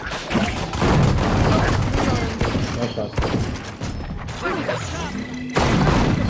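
Gunfire in the tactical shooter game Valorant, with loud repeated shots and impacts under game effects and a player's voice talking over the action.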